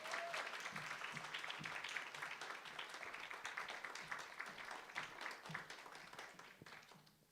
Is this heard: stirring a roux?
no